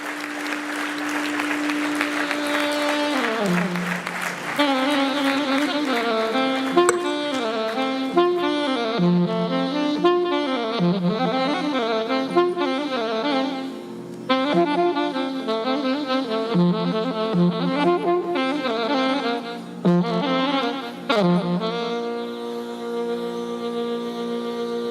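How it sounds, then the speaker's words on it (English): Audience applause at an entrepreneurship conclave, a steady wash of clapping from a crowd held under loud, melodic music that plays throughout. "Round of applause, ladies and gentlemen, for Shri Raghunandan Kamath."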